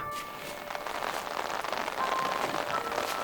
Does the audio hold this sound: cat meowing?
no